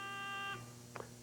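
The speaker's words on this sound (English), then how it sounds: "So put your hands on your beepers and your buzzers." A quiz contestant's buzzer gives a steady electronic tone lasting about half a second at an academic team championship game, followed by a short soft blip over quiet room noise.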